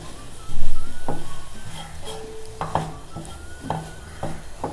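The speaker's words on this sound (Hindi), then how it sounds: "ये सारी चीज़ें डाल के हम इसको मिक्स करेंगे और थोड़ा सा और पका लेंगे इसको" Spiced minced meat (keema) is stirred in a pan, with a soft sizzle under repeated scraping and clinking strokes of the spoon against the metal pan at an uneven rhythm.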